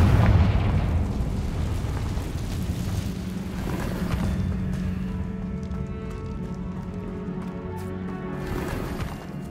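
A Confringo blasting spell detonates in Hogwarts Legacy with a booming explosion at the start. It trails into a long, dense rumble that fades slowly under a continuous noisy background.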